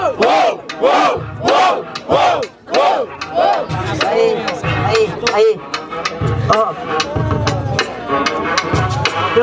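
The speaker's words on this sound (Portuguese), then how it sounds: "Barulho pra cima do Brinquedo" A loud crowd at a Brazilian freestyle rap battle in Barueri, São Paulo, chants and cheers in rhythmic bursts while an emcee hypes them over the noise, the roar staying dense and continuous throughout.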